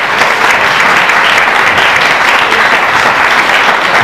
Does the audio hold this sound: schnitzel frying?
no